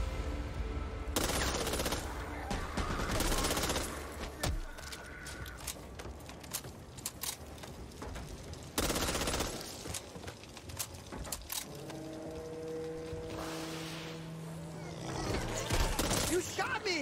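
Video game gunfire rips out in bursts of machine-gun and rifle shots, loud and sharp, broken by quieter stretches with voices and game effects.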